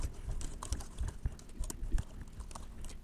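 Typing on a computer keyboard, a quick, uneven run of soft, close key clicks and taps continuing throughout at a low level.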